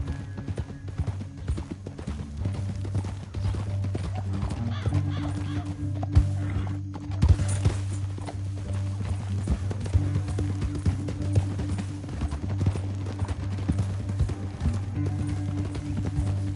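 Rhythmic hoofbeats clatter steadily at a gallop in Red Dead Redemption 2, fairly close, with a brief horse whinny in the middle and a low background drone.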